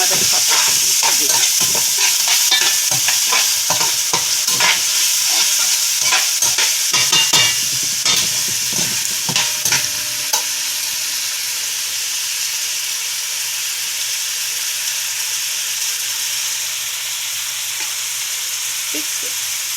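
Onion sizzles in the bottom of a pot for Jamaican-style chicken bok choy and yellow rice. Loud, close frying comes with busy stirring clatter for the first half, then settles into a steady hiss.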